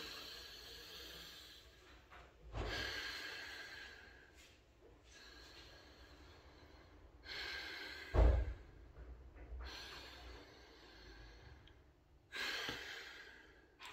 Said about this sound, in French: deux, trois respirations comme ça.